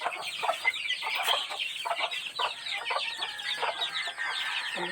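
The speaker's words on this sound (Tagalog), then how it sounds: "ayun oh, nanghuli ng manok" Chickens cluck and squawk in busy, overlapping bursts, close by and fairly faint, with no other sounds competing.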